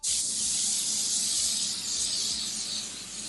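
A steady, close hiss of aerosol spray on a synthetic wig, running for a few seconds without a break.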